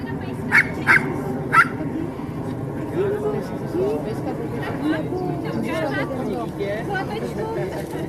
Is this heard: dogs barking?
yes